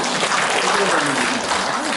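A crowd at a citizens' discussion forum in a Gumi workers' culture centre applauds a university professor after his lecture, with steady, fairly loud clapping from many hands throughout.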